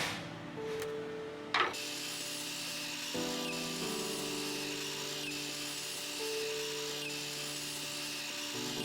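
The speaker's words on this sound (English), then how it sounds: "I'm gonna go ahead and finish cutting out these strips" A power saw cuts wood trim strips for an antique-style bookcase, a steady loud whining drone with shifting tones as the blade runs through the wood, with a sharp knock early on.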